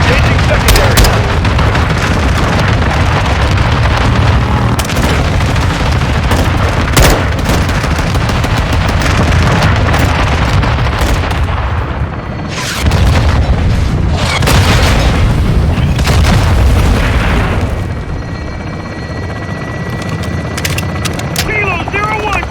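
Helicopter air support in Call of Duty Modern Warfare II pours down gunfire and explosions, with loud repeated booms, rapid bursts of fire and a steady rotor rumble underneath, dense and continuous throughout.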